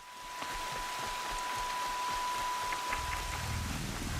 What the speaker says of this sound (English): Oh, it's raining, obviously.